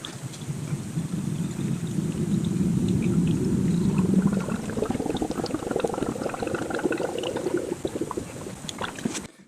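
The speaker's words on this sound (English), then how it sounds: "I'm going to use a little extra strong coolant" Extra-strong coolant pours into a car's cooling system, a continuous gurgling, bubbling flow close by that swells midway and tapers off at the end.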